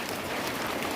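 Rain drumming on iron sheet roofs in a rural village, a dense, steady hiss of drops that stays close and even throughout with no voices.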